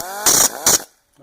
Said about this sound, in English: I'm going to use my my cutoff tool here to grind a little bit, round off this edge here